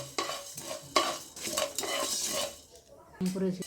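Whole fennel and coriander seeds dry-roasting in a pan are stirred with a metal spoon, giving repeated scraping strokes and rattling seeds with light clinks, close and fairly loud, pausing briefly before a final stir.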